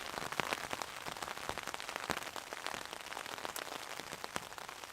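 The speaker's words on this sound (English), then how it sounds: "it rains all the time, doesn't it, so there's no point in waiting for a day when it's not raining" Steady rain patters on a tarp shelter at a solo wild camp in woodland, a dense, continuous hiss of drops with sharper individual taps, close and even in level.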